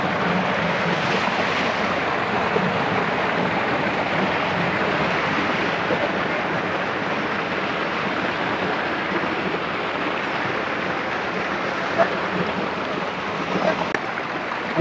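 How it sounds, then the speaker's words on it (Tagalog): Steady broadband rush of falling water at Tagilid Falls on the Kaytitinga River in Cavite, a continuous close roar with no voices. "Magandang bagsakan ng tubig dito."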